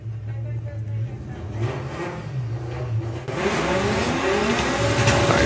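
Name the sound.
Abby's VW Golf drag racing run at Santa Pod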